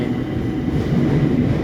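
A train rumbles steadily along the tracks nearby in Camden, London, a continuous low roar with a faint rhythmic rattle of wheels.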